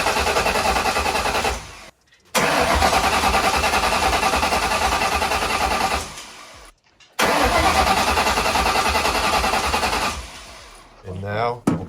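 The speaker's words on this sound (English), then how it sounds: "now let's go ahead and get it started" Small engine on a long-stored Terminator-type vehicle, fuel primed before each try, cranks and catches in three loud, sustained bursts separated by brief silences, running rough and steady before the final attempt sputters.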